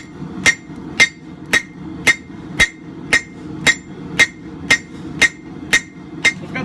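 A hammer strikes a blade on the horn of an anvil while forging a coil spring knife. About a dozen sharp, ringing blows fall at a steady, even pace, close and loud.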